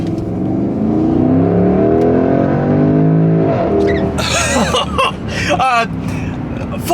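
A Porsche Cayenne Turbo S E-Hybrid's engine starts in hybrid auto mode, revving up and accelerating loudly, a rising harmonic drone that swells and sweeps upward, with a person speaking over it near the end.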